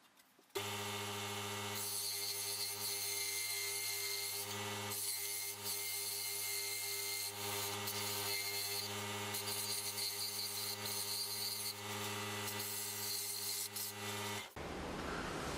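A power saw cutting tricopter frame pieces out of wood, a steady droning motor whine with rasping cutting noise running continuously, close and loud, stopping abruptly near the end.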